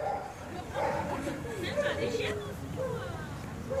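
A Belgian Malinois police dog barks in a few sharp bouts amid steady crowd chatter and murmuring voices, fairly close and moderately loud.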